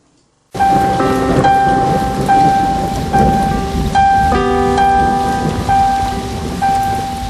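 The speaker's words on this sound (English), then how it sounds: "This week's Scene of the Week is the rain scene with Dr. Ashutosh and Nidhi from Kuch To Log Kahenge." Steady heavy rain with rolling thunder in a Hindi TV drama scene, loud and continuous after a short silent start, with a soft musical tone sustained underneath.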